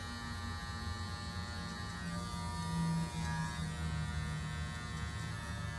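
An electric hair clipper hums steadily and continuously near the ear of someone getting a skin fade, a constant buzzing drone with a slight swell near the middle and no talk over it.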